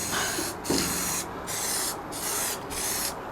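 An aerosol can of spray paint hissing onto a Christmas tree in steady bursts of several seconds, each broken by short pauses, loud and close with no talking.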